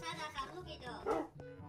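Dogs bark amid Minecraft game sounds, a short yelp standing out near the middle while a voice talks over most of it.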